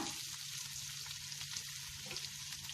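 Sliced onions and curry leaves sautéing in a pan, a faint, even sizzle that holds steady throughout.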